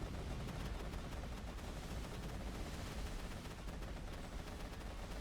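A deployed turret in a looter-shooter game fires nonstop at a boss, its rapid shots blending into a dense, even roar alongside other weapon fire, faint in level.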